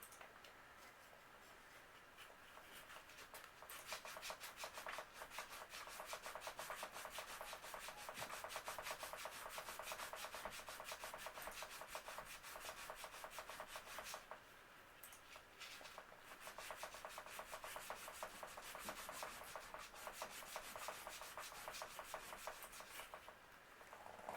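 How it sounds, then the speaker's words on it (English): Hand scrubbing a dark spot on the frame of a 1988 Huffy Off the Wall BMX freestyle bike gives a close, steady, rhythmic rasp that pauses briefly partway through before resuming at the same pace. "let's try and scrub that a little by hand."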